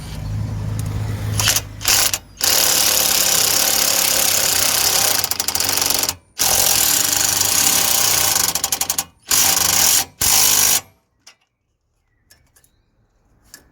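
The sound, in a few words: tightening suspension link nuts with a 17mm socket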